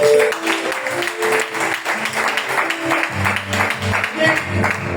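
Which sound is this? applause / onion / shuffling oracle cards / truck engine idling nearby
applause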